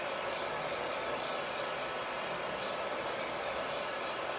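A hair dryer blows steadily and loudly, close by, drying a chalk transfer on a scrapbooking or card-making craft project, an unbroken rushing whoosh with no other sounds.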